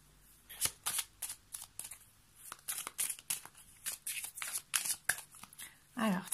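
Tarot cards are tidied and shuffled close by in a string of quick, crisp riffles and slaps with short pauses between bursts.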